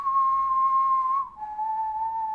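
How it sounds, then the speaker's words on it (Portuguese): Negan whistles in a scene from The Walking Dead: Dead City, a clear, close tune of two long held notes, the second slightly lower after a brief break, with no talking. "e o Negan chega assobiando"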